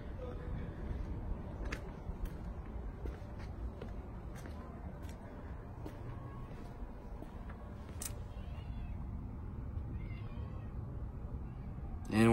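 A cat meows several times inside a home that is being renovated, short, fairly clear calls over a constant background hum, with a person talking at times.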